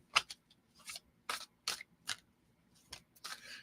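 A deck of tarot cards being shuffled by hand, heard as a quiet series of short, crisp papery snaps and riffles spaced irregularly, close by, with no talk.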